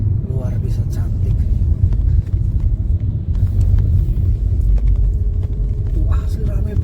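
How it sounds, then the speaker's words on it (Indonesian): Busy road traffic of motorbikes and cars on the mountain pass at Cemoro Kandang, Tawangmangu, heard as a constant loud low rumble with vehicles passing close by, and a voice talking over it. "Wah, asli rame banget loh. Motor, mobil."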